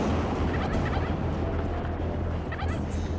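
Zombie turkeys in the video game How to Survive 2 gobble in a dense, continuous wash of game audio, the calls overlapping and steady throughout.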